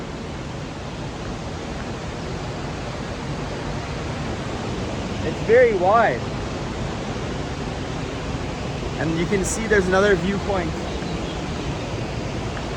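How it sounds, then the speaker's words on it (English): Loud, steady rushing of fast-moving river water fills the scene, with a person speaking briefly over the constant roar. "You can already hear the sound, of course, and that is fast moving water."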